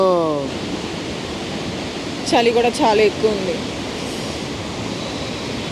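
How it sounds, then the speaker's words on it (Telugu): A heavy-flowing waterfall in Munnar, Kerala, roars as a steady loud wash from start to finish, with a voice speaking briefly over it midway. "చూసారు కదా, ఇది బ్యాక్గ్రౌండ్లో వాటర్ ఫాల్స్. ఈ వాటర్లో దిగలేము ఎందుకంటే వాటర్ ఫ్లో చాలా హెవీగా ఉంది"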